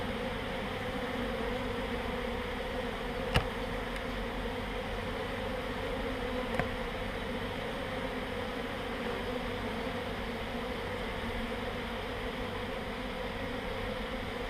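A swarm of honeybees circles close around a hive in a continuous, even buzzing drone that holds steady throughout, broken only by a couple of faint ticks.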